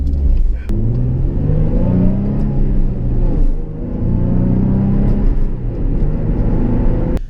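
A Nissan 350Z engine drones loud and close at high RPM in first gear, a sustained rising and falling rumble with harmonic whine, briefly easing mid-way before climbing again.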